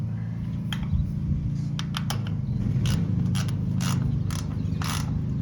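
Plastic nut being spun and tightened by hand onto a trailer light fixture, giving a run of soft, close ratcheting clicks over a steady low background hum.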